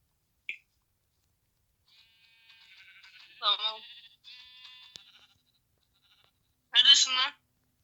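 A few short Minecraft sheep bleats ring out in a sparse game soundscape, with a faint tone and quieter buzzing between them, near and clear.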